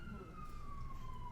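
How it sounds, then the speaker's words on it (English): A siren wails outside, a single steady tone that slides slowly downward, heard faintly at a distance over a low background rumble. "sirens happen, but they seem to be on cue here"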